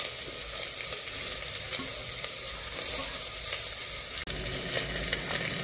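Cauliflower stir-fried in an oily pan for pav bhaji gives a steady close sizzle with scraping stirs and one sharp clack near the end.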